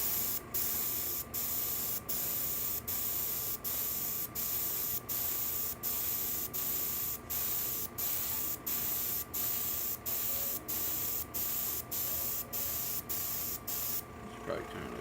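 Airbrush spraying paint onto an HO scale model restaurant building, a steady close hiss broken into regular short bursts about every half second, ending with a brief rougher blast.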